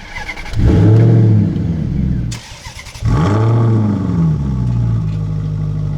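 A Maserati GranTurismo Sport starts up with a key turn, its engine flaring loudly to a rev before settling to a deep idle, then revving again and holding a steady rumble close by.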